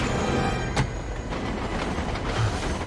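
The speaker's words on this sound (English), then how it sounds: "what is it with Spidey and trains" Train from a Spider-Man: No Way Home movie scene, a steady rumble of rolling rail cars with clattering wheels and a sharp metallic bang partway through, loud and continuous over layered scene noise.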